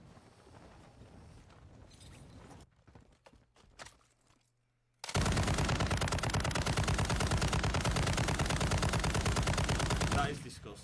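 Rapid automatic gunfire in the shooter game Farlight 84, a loud sustained burst of evenly spaced shots lasting several seconds, preceded by quieter footsteps and scattered shots.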